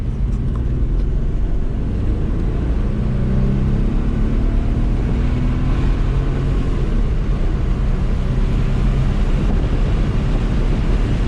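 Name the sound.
Audi B5 S4 engine breaking up during acceleration pull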